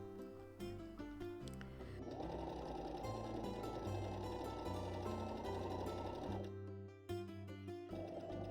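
Serger overlocking knit fabric for a pencil skirt: a loud, steady high-speed mechanical whir runs continuously for about four seconds, framed by background music with no talking.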